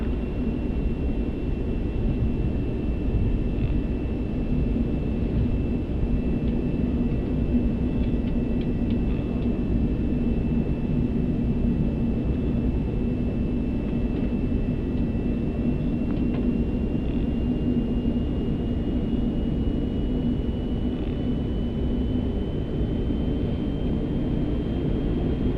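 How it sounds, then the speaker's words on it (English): Airbus A380 engines running on the runway at night before takeoff, a steady loud low roar and rumble with a thin high whine over it, continuous throughout with no talk. "Now I need a little more thrust to turn the aircraft around"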